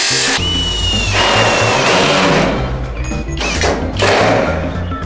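A power drill runs in close, loud bursts with a high whine while working on a steel carport roof frame extension, briefly pausing and restarting several times.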